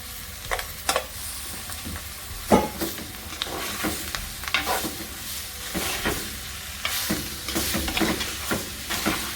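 Pork stirred and fried with tamarind in a pan for a Sri Lankan pork curry: a steady sizzle broken by repeated scraping, clattering stirring strokes, close and loud, with no talk.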